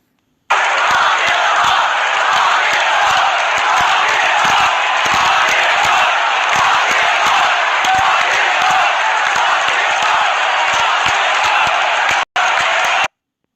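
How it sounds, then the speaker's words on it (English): A large baseball stadium crowd at Nationals Park during the World Series roars in a sustained, loud wash of voices, booing President Trump as he appears on the big screen, continuous for over ten seconds before cutting off. "President Trump was booed loudly by the fans at Nats Park when he was shown on the big screen"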